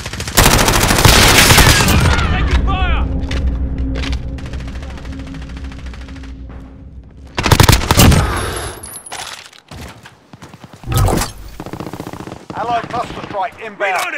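Video game shooter gunfire: heavy, loud automatic bursts open the scene and return twice, with sporadic quieter shots and rattles in between.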